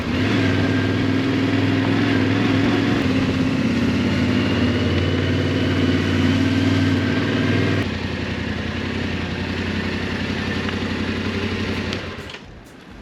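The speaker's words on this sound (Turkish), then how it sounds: "Motor Tenere 700'dür." A Yamaha Ténéré 700 motorcycle engine runs loud and close with a steady droning throb, its pitch and level dropping slightly partway through before the sound fades away at the end.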